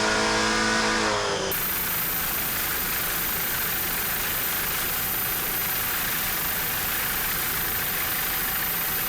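Twin 1,400-horsepower Stotler racing boat engines running at the 2007 St. Cloud Spring Fling, a loud, steady, droning roar held throughout after a brief tonal opening, with no voices.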